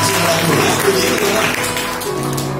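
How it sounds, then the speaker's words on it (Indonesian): A church congregation at a service for elderly members claps together in a dense, steady wash of applause that fills the room, with some background voices and tonal sound underneath. "Mari kita tepuk tangan dulu buat mereka yang 30 tahun."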